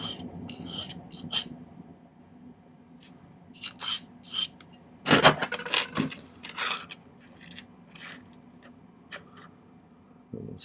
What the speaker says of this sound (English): maybe do a little bit of filing right there.